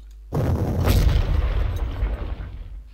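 Artillery fire in the Panzer Corps war game, a single heavy boom that bursts in suddenly and then rolls into a long, loud rumbling decay.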